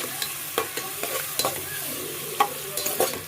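Onion, tomato and masala frying in a pan with salt for veg pulao, with repeated sharp stirring scrapes over a steady sizzle.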